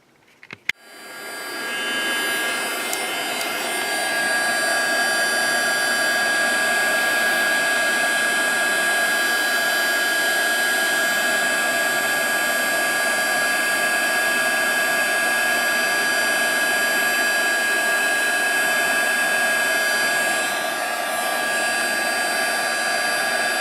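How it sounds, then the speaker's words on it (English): A heat embossing tool switches on and blows hot air at a card, settling into a loud, steady whooshing hum with a high whine that runs unbroken close to the listener, with no talking. "I'm going to use my heating tool and I'm going to heat that up"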